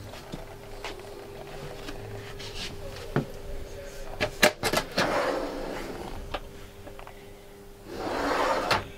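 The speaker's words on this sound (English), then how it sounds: "And there's soft closing on the drawers." Kitchen drawers in a 2021 Dethleffs Pulse I 6811 EB motorhome, a few sliding rumbles and soft thuds as they close gently, with faint clicks and a steady background hum.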